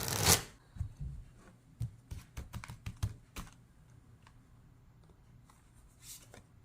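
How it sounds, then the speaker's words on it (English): Tarot cards being shuffled and handled by hand, a run of quick soft flicks and riffles close up, clustered at the start and then thinning out to a few light taps. "let's pull a couple extra cards and see if we have some supporting cards from the tarot"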